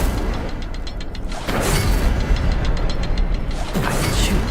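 Incendio fire spells cast in Hogwarts Legacy, two whooshing bursts of flame about two seconds apart, each surging over a rumbling low background, loud and close.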